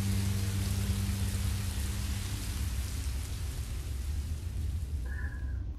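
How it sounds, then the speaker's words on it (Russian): Steady rain from the video game Minecraft: Story Mode hisses and patters continuously, with a low rumbling drone underneath and no voices. "дождик пошел"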